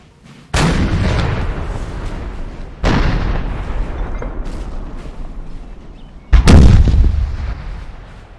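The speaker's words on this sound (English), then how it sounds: "And they're shelling French troops as they come forward." Russian 6-pounder horse artillery shelling advancing French troops at the 1807 Battle of Friedland in Napoleon Total War, three loud booming cannon shots spaced a few seconds apart, each followed by a long rumbling decay.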